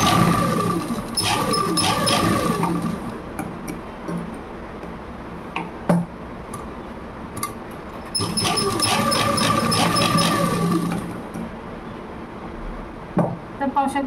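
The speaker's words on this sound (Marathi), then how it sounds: "आता आपण याच्यावर शिलाई मारून घेणार आहोत" A sewing machine stitching tucks on the front of a blouse runs in two steady whirring bursts of a few seconds each, close and fairly loud, separated by a quieter pause with occasional clunks.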